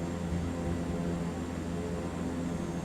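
Super Scooper firefighting aircraft in the MSFS 2024 flight simulator, a steady droning engine and propeller roar held at constant loudness throughout, with no talk.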